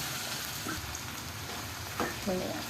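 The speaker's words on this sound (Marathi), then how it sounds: "कांदा टॅमॅटो चांगला परतून घ्यायचा" Onion and tomato sauté in a pan with a constant soft sizzle, while stirring scrapes and faint voice-like bits sit under it toward the end.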